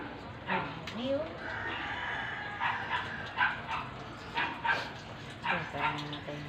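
A small dog whimpers and gives short yipping barks in bursts, close by, with people talking over it.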